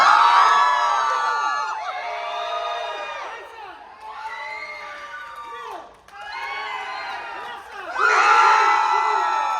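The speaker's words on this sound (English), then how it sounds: "Make them cheer for you guys." An audience at a horror film convention panel cheers, whoops and shouts loudly in several surging waves, each swelling and then dipping briefly before rising again.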